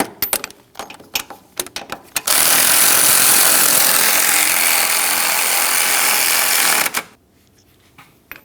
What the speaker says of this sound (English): we can start in our 2 caliper bracket bolts, snug them up, and then torque those to 89 foot-pounds.